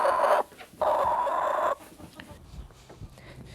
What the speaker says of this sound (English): from this flock of chickens